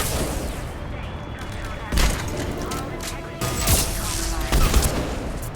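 Sci-fi gunfire from the shooter game Mass Effect 3 crackles in sharp bursts over a dense, steady wash of battle noise and music, loud and close throughout.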